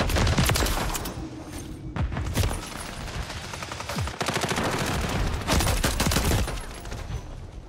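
Gunfire in Call of Duty Modern Warfare III, with sustained rapid automatic bursts and sharp single shots, loud and close, broken by short pauses and continuing almost throughout.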